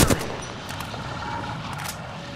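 Gunfire in the video game Apex Legends: a sharp shot burst right at the start, then a steady noisy bed of distant shots and game ambience for a couple of seconds.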